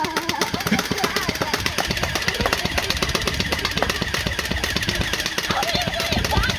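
Rapid bursts of BB gun shots with sharp pings and metallic ricochets rattle in quick succession throughout, fairly dense and close, with a voice speaking briefly amid the shooting.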